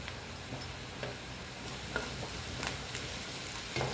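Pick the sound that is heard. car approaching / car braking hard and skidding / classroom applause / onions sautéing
onions sautéing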